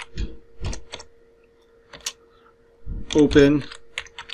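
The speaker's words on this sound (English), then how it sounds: "to download Open SSH Server, I'm going to type sudo apt-get" Keystrokes tapping out a Linux install command on a computer keyboard, a few short clustered clicks spread across the moment, with someone talking over the second half.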